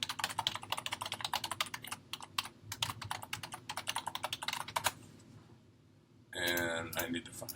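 Rapid clatter of typing on a computer keyboard while entering an email address, close and fairly loud in quick bursts with brief pauses, then a short break before other sounds return.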